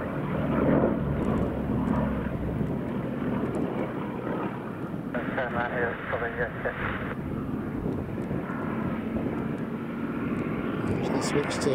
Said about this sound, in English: Bristol Blenheim's coming into land.